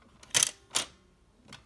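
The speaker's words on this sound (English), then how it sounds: "we're gonna click the shutter release button like this" Crisp mechanical clicks of a Polaroid film printer's shutter release button: two sharp close snaps in quick succession, then a fainter click a moment later.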